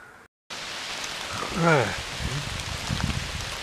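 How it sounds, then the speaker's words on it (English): Steady rain falls in woods during an afternoon squirrel hunt, a constant close hiss of drops on leaves and ground, with someone speaking briefly and a short gust of wind. "It's raining out here pretty good."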